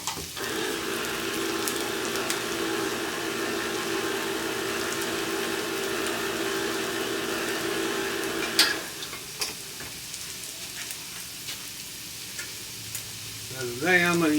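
Food caramelizes in a pan with a steady loud sizzle, then the hiss drops after a clank partway through, leaving softer frying with occasional stirring scrapes and taps close by.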